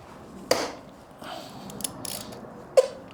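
Ratchet wrench clicking as it loosens a 6mm bolt on a 2025 Honda X-ADV foot peg, with two sharp loud clicks about two seconds apart and faint mechanical ratcheting between them.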